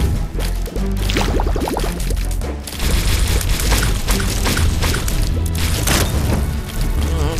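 Bombs going off in The Binding of Isaac, a string of heavy booms and crackling bursts over busy, loud game music and effects, repeating through the stretch without any talking.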